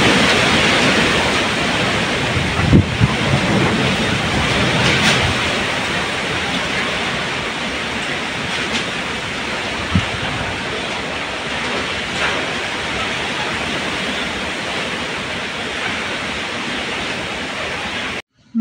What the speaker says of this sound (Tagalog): bumuhos na nga ang malakas na ulan, kasabay ng malakas na hangin